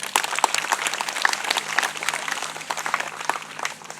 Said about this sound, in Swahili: kila mmoja pale alipo basi ajipigie makofi.